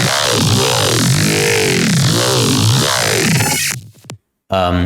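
A dubstep growl bass, distorted and heavily OTT-compressed, churns loudly with wobbling, sweeping formant movement for about four seconds, then cuts out briefly before a short burst returns.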